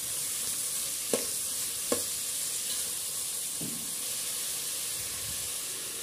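Vegetables and onion frying with salt for vegetable biryani, giving a steady, close sizzle throughout, broken by a few sharp knocks of stirring against the pan.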